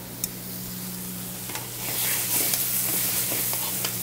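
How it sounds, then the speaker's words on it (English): Butter sizzling in a pan while soft-shell crab almandine is cooked, a soft steady frying hiss that grows a little louder halfway through, with a faint low hum behind it and no talking. "Now with the butter's frying like that"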